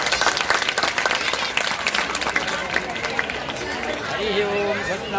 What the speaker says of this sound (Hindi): आप सब लोग बहुत ताली बजाकर स्वागत करेंगे।